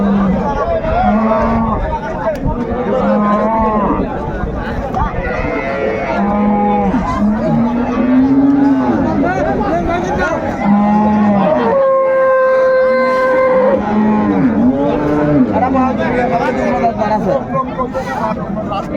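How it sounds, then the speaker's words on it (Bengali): Cows and calves moo repeatedly at a busy rural cattle market in Dinajpur, loud and overlapping, with one long drawn-out low call in the middle; a crowd murmurs and people talk throughout. "দেখছিলাম গাভী বাছুর বেশ সুন্দর কোয়ালিটির গরু বড় একটু হ্যাঁ।"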